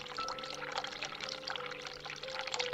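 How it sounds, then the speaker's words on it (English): Tap water runs steadily into a sink in The Cat Lady game, a continuous close splashing pour with no pauses. "Turn cold water on, turn hot water on,"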